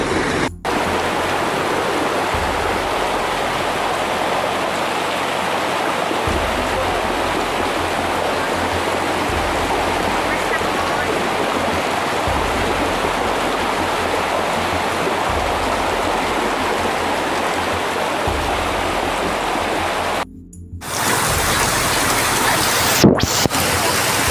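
Floodwater surging down from under Calobak during heavy rain and carrying rocks onto a road, a continuous loud rushing roar like a torrent, steady and close with no speech.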